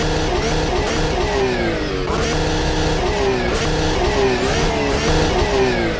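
Porsche 911 engine in the Automobilista 2 racing video game, a loud continuous engine note that revs up and down through several gear changes, close and alone without speech.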